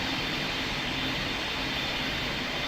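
An aircraft landing on a runway in PTFS gives a steady, loud broadband roar of engine and rolling noise that holds constant throughout without pause.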